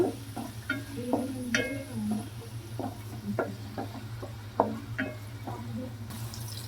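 Sliced onions and green chillies fry in oil in a pan, giving a steady low sizzle broken by scraping stirs and light clinks of a spoon against the metal, with no voices.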